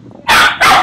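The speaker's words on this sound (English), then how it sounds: "sorry about my dog" A dog barks twice, loud and close, two sharp barks following a short quiet lead-in.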